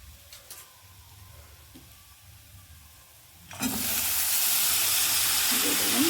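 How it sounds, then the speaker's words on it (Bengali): Cauliflower pieces drop into hot oil in a pan, and after a quiet stretch a sudden loud, steady sizzle erupts and holds to the end. "একটু তেল দিয়ে দিলাম। আমি কপিটা দিয়ে এটাকে ভাজবো।"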